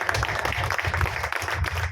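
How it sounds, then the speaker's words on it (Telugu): An audience at a talk on caste applauds, a short burst of many hands clapping close and fairly loud, with a voice faintly mixed in. "చప్పట్లు పెట్టండి."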